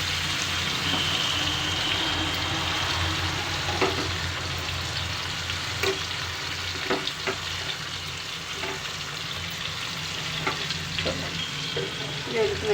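Fish pieces fry in a pan for a fish pulusu curry, a continuous rain-like sizzle with occasional scraping and tapping as they are stirred, close and steady with no talking.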